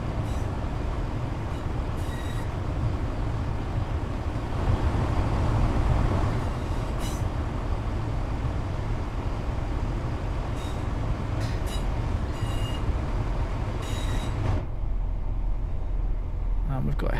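An HST train rolls past in Train Sim World 4, a sustained low rumble of wheels and engine with occasional higher squeals and a voice speaking over it.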